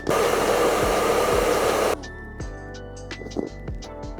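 A hair dryer blows hot air on the hips of a Marvel Legends Spider-Man action figure to loosen them, a loud close whoosh for about two seconds that cuts off, followed by faint handling clicks and taps.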